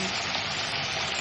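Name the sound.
cauliflower frying in oil with dried chillies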